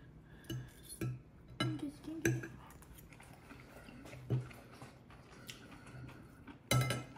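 Cutlery cuts through bacon-wrapped meatloaf and potatoes on a plate, giving scattered close clinks and scrapes of metal on ceramic, with a few sharper taps between quieter stretches.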